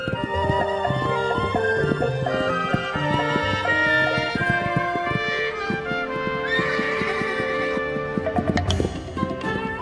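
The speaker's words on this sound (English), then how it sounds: "Stallions spar and court young mares in a drama as old as the hills." Wild mustang horses on the open range neigh and whinny loudly and repeatedly, with overlapping calls from several animals close by.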